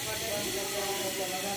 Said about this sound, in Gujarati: વઘાર થાય જોરદાર।